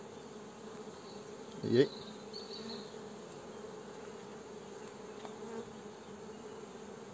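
Buckfast honey bees hum softly and steadily at an opened hive during an early-spring inspection, one bee buzzing briefly near the microphone while someone says a word.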